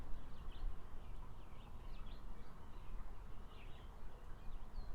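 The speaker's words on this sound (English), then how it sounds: "aren't you loving just the sounds of the birds?" Several birds chirp and trill in short, scattered bursts over a steady outdoor background, moderately distant and fairly faint.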